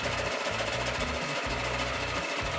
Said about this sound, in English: Alright, it started on the first pull, just the way I like it.